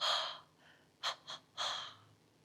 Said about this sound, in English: We make a slight restriction at the back of the throat, as if you're fogging up glasses